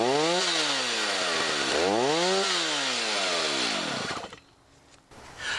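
Chainsaw started outdoors for wood turning work, its two-stroke engine revving loudly twice with rising and falling pitch, then settling to a steady run before cutting off briefly near the end and sputtering back.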